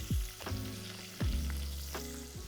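Food fries in oil toward golden brown, a low bubbling sizzle broken by three sharp clanking knocks spaced about a second apart, close by, with no talking.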